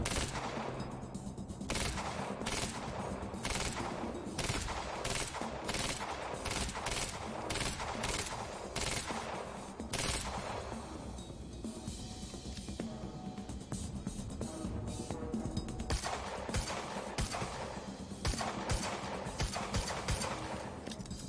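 Near-constant gunfire in the video game Quantum Break as snipers are shot at, with dense repeated shots and bursts over a busy, loud game soundscape.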